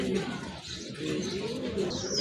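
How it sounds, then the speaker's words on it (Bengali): A pair of large racer pigeons coo softly and repeatedly at close range, a low continuous burbling with no talk over it. "এক জোড়া কবুতর, বড় পায়রা কবুতর"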